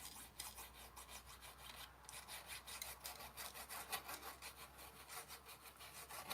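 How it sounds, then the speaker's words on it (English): A plastic glue bottle nozzle rubs glue into a paper flap on a handmade page, giving a steady close scratching and scraping in quick repeated strokes, faint and continuous with no voices. "you can hear I'm just working it in. I'm not putting a lot of glue, but I'm using the nozzle edge just to work it in"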